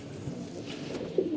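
Domestic pigeons cooing in a loft around feeding time, soft low repeated coos close by over a steady background hum, with no talking.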